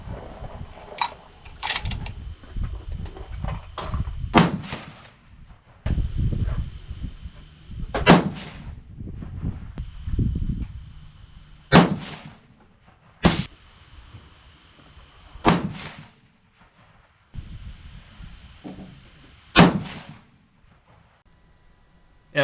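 A 6.5 PRC rifle loaded with Hornady 153gr A-Tip bullets and 58 grains of Retumbo powder fires a five-shot group, each loud, sharp report spaced several seconds apart, with quieter mechanical knocks and handling in between.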